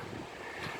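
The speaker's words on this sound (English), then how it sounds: "Very windy today. There's a wind coming from the northwest, and we're on a low tide right now, so the water is very choppy right now" Wind gusting over choppy water on the Hudson River at low tide, with a northwest wind; a steady outdoor rush of wind and lapping waves, with no voices.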